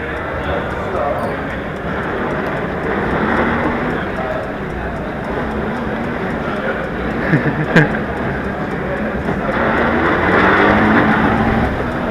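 A REVA G-Wiz electric car pulls away at an electric car show, with a steady, fairly loud rush of motor and road noise that builds slightly toward the end, amid voices and background chatter.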